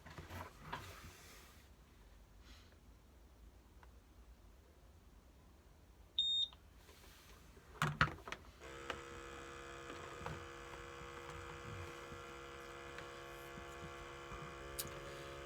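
An air-testing meter used to check face masks switches on with short electronic beeps, then settles into a steady whirring, tonal machine hum with no talk.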